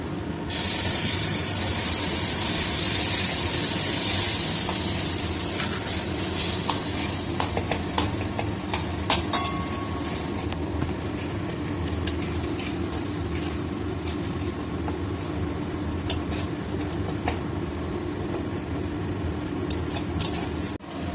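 Ground tomato paste lands in a hot pan of spiced masala for chicken butter masala, opening with a loud hiss that settles into steady sizzling while a spoon clinks and scrapes in repeated stirring strokes.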